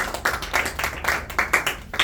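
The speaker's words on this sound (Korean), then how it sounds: "우리 선생님에게 박수 한번 치도록" An audience at a small-business startup mentoring lecture claps in a brisk, steady rhythm, each hand-clap burst distinct and evenly spaced for a couple of seconds.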